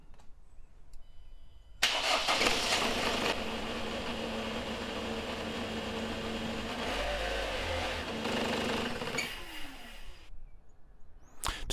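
A 2005 Ford Fiesta 1.6 TDCi Duratorq diesel engine starts after a brief quiet lead-in and then runs at a steady, loud idle for about eight seconds before cutting off, leaving a short silence.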